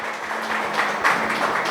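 Church congregation applauding together during a family communion service, a steady continuous wash of many hands clapping that holds at an even level throughout, with no voices rising above it.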